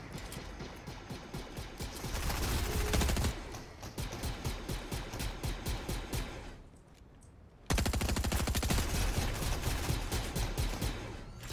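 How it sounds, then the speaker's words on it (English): Rapid bursts of automatic weapon fire and rocket launches in the Fortnite video game, loud and dense, repeating in rattling volleys with a brief lull before the firing resumes. "Is that you firing rockets?"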